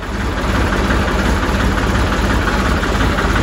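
Tractor engine idling nearby, a steady loud low rumble with constant vibration and faint knocking throughout, no speech over it.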